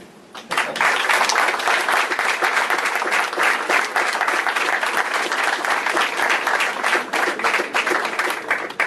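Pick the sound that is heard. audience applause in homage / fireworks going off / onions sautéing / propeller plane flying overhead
audience applause in homage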